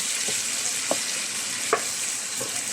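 Vegetables with spices and aromatics sizzle steadily in coconut milk in a pan for a Filipino ginataang gulay with tilapia, with a few soft scraping stirs of a spoon breaking through the continuous frying hiss.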